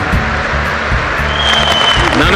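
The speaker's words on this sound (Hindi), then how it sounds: "ना मैं करूं तो ताली बजाते हो" An audience claps at an indoor Vishwakarma Diwas address by Prime Minister Narendra Modi, a sustained, loud patter of many hands with a voice faintly under it.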